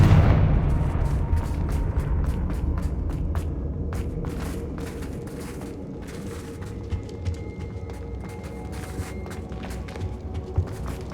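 Confringo fire spell explosions in Hogwarts Legacy, a loud rumbling blast that decays into a sustained low roar with crackling debris and scattered sharp impacts throughout.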